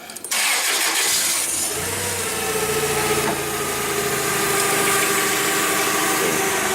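A forklift truck's engine cranks and catches, then settles into a steady, loud, nearby idle with a low rumble and faint rattling vibration throughout.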